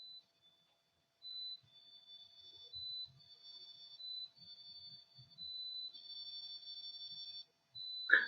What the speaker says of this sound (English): the beeping for some reason incorporates itself well into songs